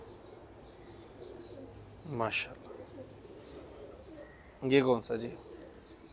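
A Shekhupuri dumchir pigeon gives two distinct cooing calls a few seconds apart, close and clear against a quiet background, with brief human speech nearby.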